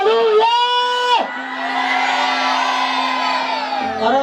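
A crowd at a live gospel concert in Rwanda cheers and whoops loudly, with a sustained sung or shouted tone rising above the roar and continuous crowd noise beneath.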